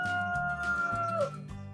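A cockerel crows nearby, a drawn-out call that bends downward at the end, followed by low clucking from fowl in a garden.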